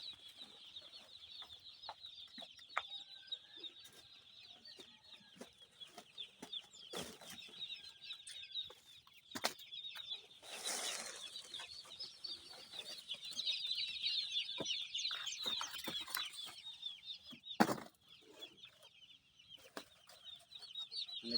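Chickens and young chicks on a farm, a steady chorus of high chirping and clucking with scattered sharp scratches and bumps, continuous and fairly close throughout.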